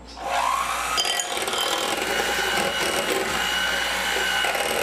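An old electric kitchen mixer switches on and runs steadily, a dense whirring motor drone with gritty rattling that holds close and loud for several seconds without talk.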